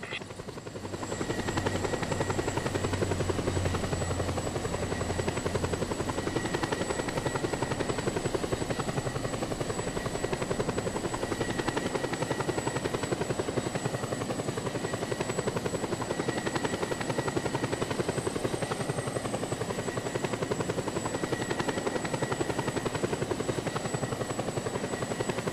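Inside the video game Just Cause 2, a helicopter flies with a steady, loud rotor drone and engine whine held evenly for the whole stretch, with no voices over it.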